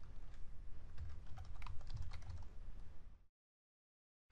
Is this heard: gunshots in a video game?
no